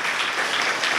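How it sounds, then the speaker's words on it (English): A dense, continuous wash of audience applause at an official state visit ceremony, loud and even for a brief second with no speech on top. "she deserves a round of applause"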